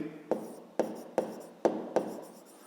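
Pen strokes write numbers by hand on paper for a fifth-grade math exercise, five crisp separate scratches at an even pace, each a quick sharp stroke fading out, close up with no talking.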